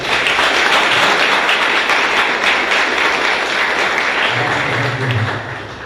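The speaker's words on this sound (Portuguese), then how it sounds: "Vamos aplaudir o Senhor" A church congregation at a Sunday morning service in Ouro Preto applauds together, a loud sustained wash of clapping that holds steady and then tapers slightly at the end, with a voice faintly beneath.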